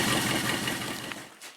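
A worn AMC 401 V8 in a Jeep runs with tacked-up exhaust, a rapid rough chugging that is loud at first and then fades, ending in a quieter tail.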